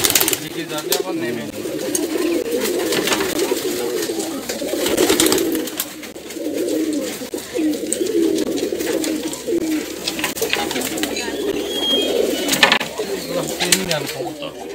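Pigeons coo steadily and continuously in a large farm loft of over 500 birds at Baneshwar, Chamta village, a dense layered murmur of many close birds with wing flutters and faint talk in the background.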